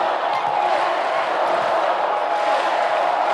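A volleyball crowd at a Hawaii Wahine versus SMU match roars in a steady, dense wash of cheering that fills the arena, loud and continuous with no single voice standing out.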